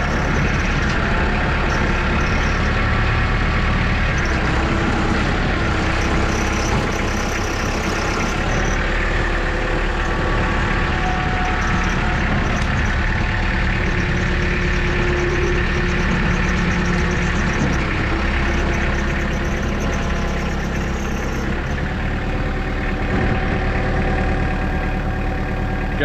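An old farm tractor engine runs steadily at a low, even idle, a continuous loud mechanical rumble close by, with no talking over it for the whole stretch.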